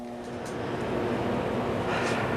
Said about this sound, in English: So what the blower door is doing is depressurizing the house.